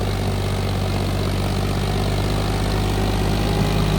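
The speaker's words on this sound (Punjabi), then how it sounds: "ਆਰਪੀਐਮ ਡ੍ਰੌਪ ਕਰਦਾ ਮੋੜ ਤੇ ਥੋੜੇ ਜਿਹੇ ਪਰ ਇੰਨੇ ਨਹੀਂ ਕਰਦਾ ਵੀ ਟਰੈਕਟਰ ਦਬ ਜਾਵੇ" A John Deere tractor engine runs steadily and loud at close range, a continuous low mechanical drone with no break, its pitch dipping only slightly as the machine turns.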